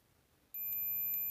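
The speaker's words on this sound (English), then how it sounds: "a fairly loud continuity test" A multimeter on continuity test gives a loudish, steady electronic beep as its probes touch a connector. The beep starts suddenly partway in after quiet and holds as one continuous tone.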